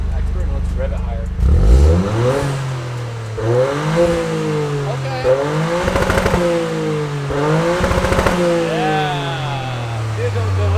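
A car's engine revs repeatedly with the traction control set to expert mode, rising and falling in several sharp climbs with small pops, loud and close, with people talking over it.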